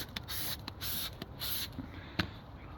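Fallout remover is sprayed onto a car during detailing in several quick, faint hissing bursts with short pauses between trigger pulls.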